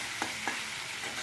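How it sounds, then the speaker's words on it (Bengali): Fish frying in a pan, a dense steady sizzle of hot oil up close, with a couple of soft clinks or stirring taps. "আপাতত মাছটা ভাজা হোক"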